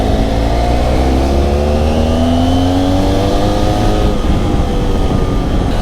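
Motorcycle riding along a mountain road in Spain, its engine droning loud and steady throughout with a rising pitch as it accelerates, then rougher wind-buffeted roar toward the end.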